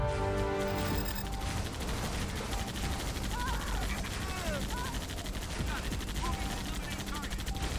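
Rapid bursts of automatic gunfire and rattling weapons fill a battle in the strategy game Halo Wars: Definitive Edition, loud and continuous with layered shots and faint radio chatter beneath.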